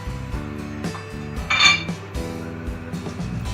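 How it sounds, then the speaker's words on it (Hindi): Meat going into a pressure cooker while cooking bhuna gosht: metal pots and utensils clink and knock repeatedly, with one brighter ringing clatter midway, close and fairly loud with no talk. "अब मैं इसमें गोश्त डाल दूंगी"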